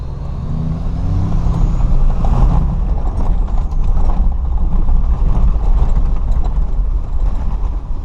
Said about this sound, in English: drive around the farm just for a minute and let you hear how the truck sounds